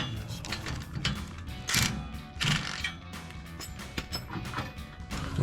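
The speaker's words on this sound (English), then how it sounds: "a 3/8 ratchet and a deep 17 socket" A 3/8 ratchet with a deep 17 socket clicks in quick, close rhythmic bursts while tightening bolts on a Jeep Gladiator bumper, with occasional clunks and no talking.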